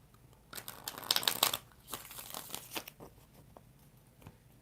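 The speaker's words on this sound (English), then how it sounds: "One more shuffle." Tarot cards being shuffled in the hands, a burst of papery riffling and crinkling followed by softer intermittent card flicks and taps, close and fairly quiet with no talking.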